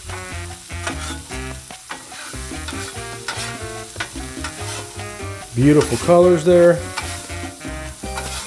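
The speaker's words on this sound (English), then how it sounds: "Nice sizzle, nice steam." Eggs for an omelette sizzle and crackle steadily on a hot Blackstone 22-inch griddle while a utensil scrapes and stirs them, with someone talking over the cooking.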